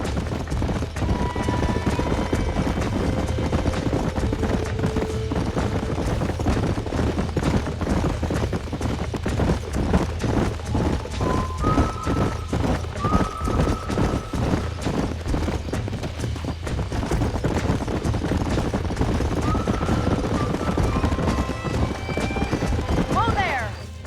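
Horses from Red Dead Redemption clip-clop steadily at a gallop with occasional neighs, over continuous game ambience and background music.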